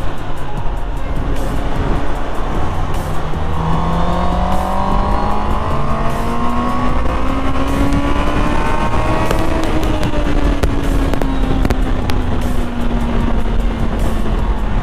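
A Honda CB650R motorcycle accelerates hard on the road, its loud engine note climbing steadily in pitch, dropping briefly at a gear change and then rising again under constant wind and road roar.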